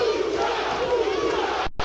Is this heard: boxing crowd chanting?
yes